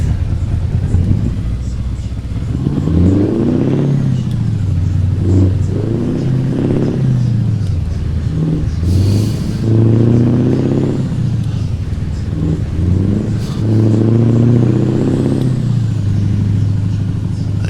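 A 1988 Kenworth K100 truck engine in American Truck Simulator rumbles and climbs steadily in pitch as it accelerates, with repeated rising and falling swells from gear changes, loud and continuous with someone talking over it.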